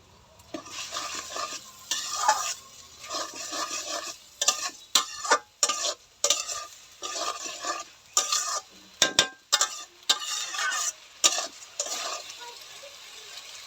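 Garlic paste fries in a pan for chicken kosha while a utensil stirs and scrapes in repeated close bursts, clinking against the metal over a soft underlying sizzle.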